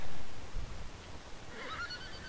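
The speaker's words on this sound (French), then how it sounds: "Alors j'attaque un cheval" A horse in the Mortal Online video game whinnies after being attacked: a short, fairly quiet neigh rising near the end, heard alone after a low thump at the start.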